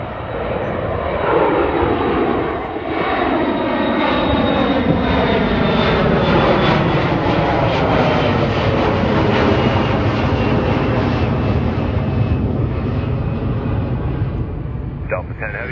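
A Delta airliner going around at Minneapolis airport, its jet engines roaring loud and steady as it climbs, a broad sustained rumble with a rising whine, while voices talk over it.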